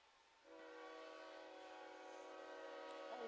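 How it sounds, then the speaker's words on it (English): Train horn sounding steadily and fairly loud as a train passes near a baseball field, a sustained blaring chord lasting several seconds over quiet ambient background. "Train going by here at Wolf Field."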